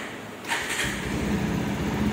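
A 2022 Bajaj Pulsar 150 disc motorcycle's 150 cc engine cranks over after a brief quiet moment, then settles into a steady, close, moderately loud running rumble with no talking.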